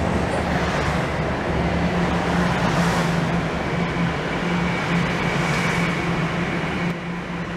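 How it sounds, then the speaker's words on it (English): A Toronto subway train rumbles in with a loud, steady roar and low hum, a rushing whoosh rising and fading as it arrives. "And here comes the train."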